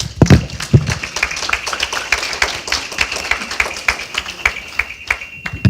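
Small audience at a civic space publication launch clapping for the speakers, with sparse, distinct individual claps in a loose rhythm, moderately loud and slightly thin rather than a full roar.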